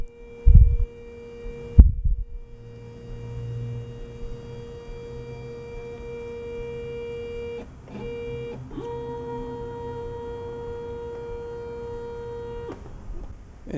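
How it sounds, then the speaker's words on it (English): A ShopBot Desktop CNC machine hums steadily as its spindle is jogged into position by manual control, its motor whine shifting pitch in a few steps, after two sharp thumps at the start. "what I'm doing here is manually moving the spindle"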